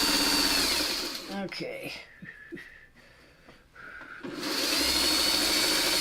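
A sewing machine runs steadily through pieced quilt fabric, loud at the start and again at the end, stopping in the middle while a person speaks briefly.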